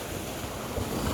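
Calm open sea on a fishing trip, heard as a steady low wash of water with wind rumbling against the microphone, continuous and fairly soft with no voices.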